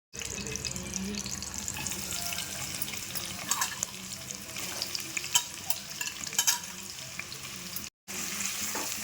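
Sliced onions sauté in peanut oil for a chicken gravy, giving a steady soft sizzle with occasional stirring scrapes of the spoon in the pan, fairly quiet, with a brief break near the end.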